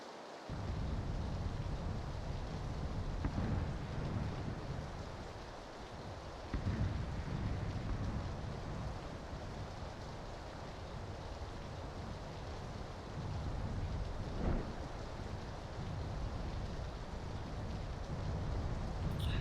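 Steady rain pours throughout in PlayerUnknown's Battlegrounds, a broad constant hiss with low rumbling underneath, and a few brief swells suggesting distant thunder.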